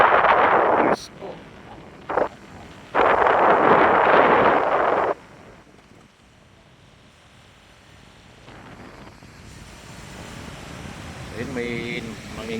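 Breeze gusting at a seaside resort in Bauang, La Union, near a swimming pool, heard as loud rushing bursts of wind across the microphone that ease into a quieter steady airflow, with people talking faintly in the background.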